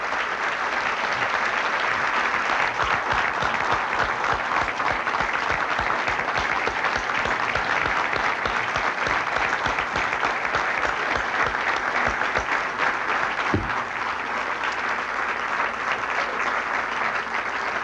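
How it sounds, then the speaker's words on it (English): A long, loud round of applause from a banquet audience at a sports hall of fame induction dinner honoring inductees and scholarship winners, dense steady clapping that holds evenly throughout. "I would ask you just for one last round of applause for our inductees and scholarship winners tonight."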